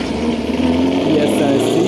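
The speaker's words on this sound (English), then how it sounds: "That looks like a Camaro ZL1 maybe. Sounds super nice, it's cammed out." Cammed Camaro ZL1 V8 at a track day, a steady rumbling idle with a slight rise in pitch, heard close and continuous as someone talks over it.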